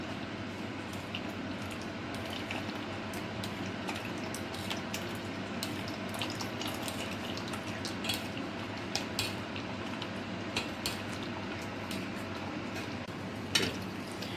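Tomato soup being pushed through a metal strainer, with a steady wet scraping and stirring texture plus occasional light clinks of a spoon against the mesh, continuous and fairly close with no talking.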